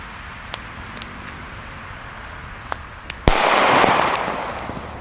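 Funke Peng 2 firecracker assortment going off outdoors: a few scattered sharp pops followed by one loud, close bang and a sustained crackling burst that slowly fades.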